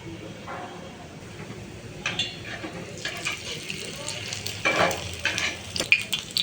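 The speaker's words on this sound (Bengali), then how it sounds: "এটাকে এইভাবে ভাজতে হবে" Food fries in a pan, giving a steady crackling sizzle that builds, with bursts of stirring and spatula scrapes from close by. There may be faint voices in the background.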